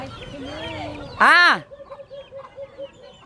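A chicken lets out a loud, sharp squawk among softer clucks, followed by a string of quieter, rhythmic clucks nearby.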